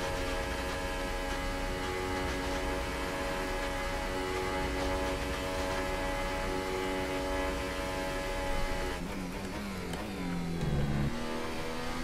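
F1 race car engines in F1 2018 during a race with a Ferrari and a Mercedes nearby: a steady, loud, high-pitched engine whine holds throughout, with shifting pitch near the end as cars rev and change gear.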